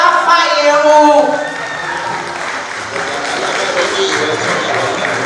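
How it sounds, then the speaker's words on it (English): A crowd at a Yoruba Day 2018 gathering applauds a speaker being introduced, a dense wash of clapping that swells loud at first and then settles into steadier applause. "Please put your hands together for Adiola Fayero."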